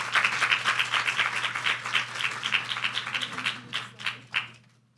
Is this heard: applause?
yes